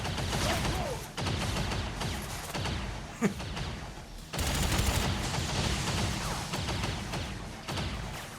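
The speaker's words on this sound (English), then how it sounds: "Incoming weapons fire." Weapons fire in the turn-based tactics game XCOM 2: dense, crackling bursts of rapid gunfire rattle on for several seconds, broken by short pauses and a sharp thump midway.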